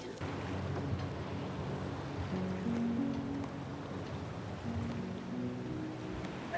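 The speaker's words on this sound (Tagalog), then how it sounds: "grabe yung grabe yung alon" Ocean waves roll on a rough sea under a steady low engine hum from a boat. The roar is constant and fairly faint, with a murmur of swell and wind and no clear talking.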